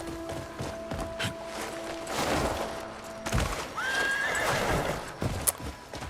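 Horse whinnying in the Crimson Desert video game, a drawn-out neigh near the middle with hoof clip-clops and thuds around it, fairly close and loud.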